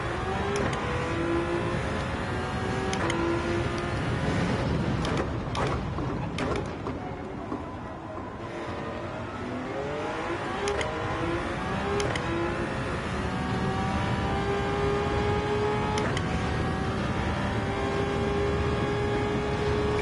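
A racing car engine in Gran Turismo 7 drones steadily as it climbs and shifts through gears, rising revs sweeping upward in repeated pulls, loud and continuous without talk.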